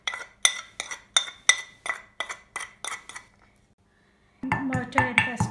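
Pestle strikes clove in a mortar in a quick run of about a dozen sharp, ringing taps, then a brief pause before a burst of heavier grinding and clinking.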